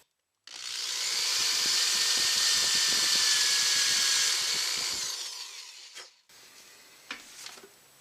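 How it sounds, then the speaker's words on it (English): A power drill bores screw holes into a guitar body during final assembly, a steady high whine running several seconds close up, then stopping, followed by brief handling clicks and rustle. "We'll drill one, put the screw in,"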